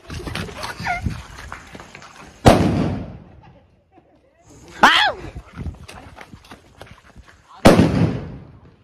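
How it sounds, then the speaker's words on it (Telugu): Three sharp Diwali firecracker blasts go off a couple of seconds apart, each a loud crack with a short rumbling tail, amid background voices and outdoor noise. "ఈ 10 రూపాయల బాంబులు అయితే పెట్టాలనుకుంటున్నారు"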